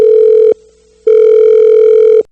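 A telephone rings with a loud, pure electronic tone: two long rings separated by a short pause, close and alone with no voices.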